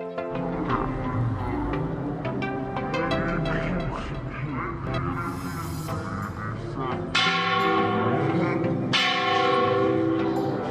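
Temple bell struck repeatedly at a shrine near Bisalpur dam, ringing through a busy, noisy crowd with music-like tones, strikes growing louder and brighter in the later seconds.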